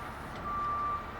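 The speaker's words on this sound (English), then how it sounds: "That telehandler is taking these pieces off my bed." A telehandler unloads pieces from a truck bed on a street in Washington, DC, sounding a steady reversing beep tone over low, faint engine rumble.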